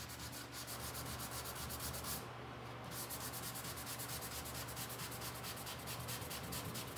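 Steady, close abrasive rubbing wears through fresh DIY paint on the side of a wooden buffet during a furniture makeover, with continuous rhythmic scraping strokes and one brief pause.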